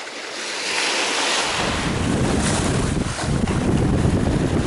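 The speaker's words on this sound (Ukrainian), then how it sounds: "Дуже сильний вітер, він заважає, прям дуже сильний." Strong wind buffets the microphone on the Black Sea shore while surf rolls in, making a loud, continuous roar that builds after the first second and stays dense throughout, with no voices.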